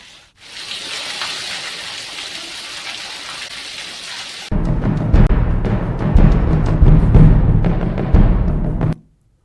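Heavy monsoon rain pours down in Sabarkantha as a steady dense hiss, turning louder and heavier partway through with a deep rumbling roar beneath it until it cuts off abruptly.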